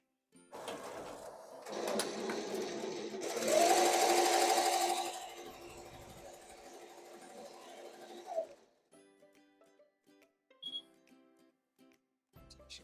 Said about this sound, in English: It's going to move over with a white thread, and it's going to give me a nice little placement stitch there.